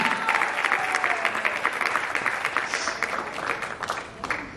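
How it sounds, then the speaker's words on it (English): A church congregation claps steadily during a sermon, a dense, even wash of hand clapping that carries on throughout with no talking. "give the Lord a hand clap."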